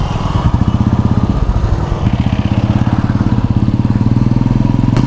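Two motorbikes and a scooter idle and pull away at the start of a ride near Port Blair in the Andaman and Nicobar Islands, close and loud, with a fast, even engine throb throughout.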